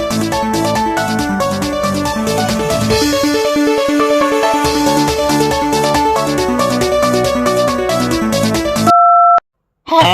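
A telephone call tone plays loudly over a repeating musical ringtone pattern, ending in a couple of sustained electronic beeps before cutting to silence.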